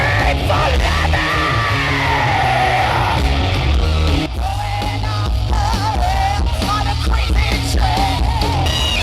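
A large crowd at a tribute to Lemmy yells and whoops continuously, loud overlapping screams and cheers swelling into a dense roar.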